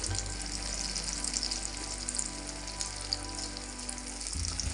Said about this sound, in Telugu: మళ్ళీ మన దగ్గర ఉన్న పిండి అంతా ఇలానే కాల్చుకుందాం